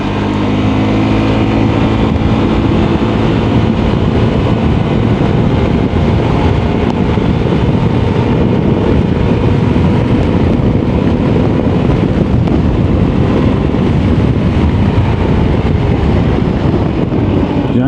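An RKS Reale 125 motorcycle engine drones steadily at close range throughout ABS and traction control testing, with heavy wind rush buffeting the microphone and no voices.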